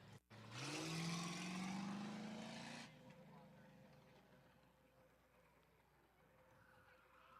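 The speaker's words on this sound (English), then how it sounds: "We're going to get these burnouts in here, ripping." A truck doing burnouts at a diesel event roars loud and near, its engine pitch climbing for about two seconds before cutting off abruptly, leaving a lower rumble and crowd-area noise trailing behind.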